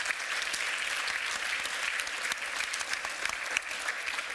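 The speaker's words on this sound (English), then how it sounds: "So, big round of applause." Steady round of applause from an audience after a tech panel on the metaverse and AI, dense even clapping sustained for several seconds with no talking.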